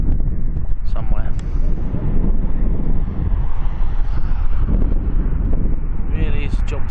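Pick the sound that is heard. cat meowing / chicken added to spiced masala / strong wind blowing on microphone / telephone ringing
strong wind blowing on microphone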